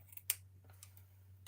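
Scissors snip craft material in a few quick, close, crisp cuts with short gaps between them, over a low steady electrical hum.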